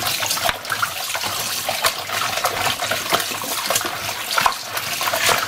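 Tap water runs steadily while a duck is rinsed clean for a curried duck dish, a continuous broadband splashing rush with irregular spatters as the meat is handled.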